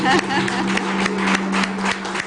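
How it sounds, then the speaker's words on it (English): Delegates at a youth policy ministerial conference clap together in a loud, steady wash of applause, accompanied by a constant electrical hum from the room's sound system. "A round of applause, Djibouti."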